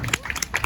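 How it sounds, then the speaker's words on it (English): Brief, light clapping for a powerlifter at a technique session, a few scattered hand claps close by, quick and irregular, lasting under a second. "Give her a round of applause"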